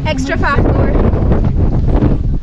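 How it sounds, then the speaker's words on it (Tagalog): Strong wind buffets the microphone on the trail of Mt. Batulao in Batangas, a loud, rumbling gusty roar that continues after a person briefly speaks at the start. "Malakas po kasi yung hangin."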